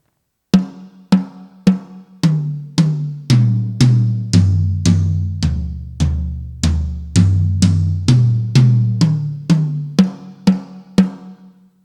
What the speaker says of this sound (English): So let's say I'm playing snare drum and all the toms and back.